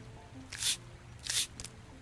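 Two soft hissing splashes of water poured onto tomato seeds in the farming game Roots of Pacha, each lasting a quarter second, followed by a faint third spritz, over a low ambient hum with no speech.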